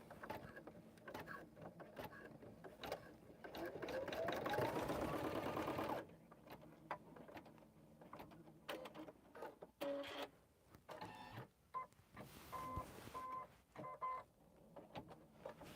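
Embroidery machine stitching at a steady fast whir, starting loud and dense for a few seconds, then continuing with intermittent mechanical rattles and beeps while a person moves around nearby.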